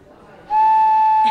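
A handmade craft whistle sounds one loud, steady, pure tone at close range, preceded by a brief quiet moment.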